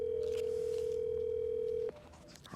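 Outgoing call on a phone: a steady electronic ringback tone holds clearly for nearly two seconds, then cuts off, leaving faint room background.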